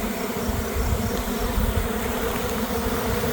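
A honeybee swarm pours out of a hive, a dense, continuous buzzing drone of many bees, loud and close with no voices over it.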